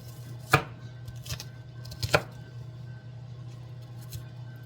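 A knife chops a soft white onion on a cutting board, with a few separate crisp cuts spaced irregularly over a low steady hum, close and fairly quiet.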